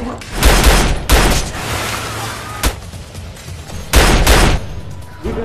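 Gunfire in an action film shootout: several loud bursts of shots and booms, with a pair of heavy volleys at the start and again near the end, separated by quieter gaps and a single sharp report.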